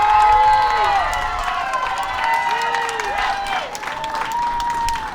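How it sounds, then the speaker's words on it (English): A crowd at an outdoor city inauguration ceremony in Paterson applauds with dense, continuous clapping. Cheers and whistles rise over it, and voices blend into the noise throughout. "Another round of applause."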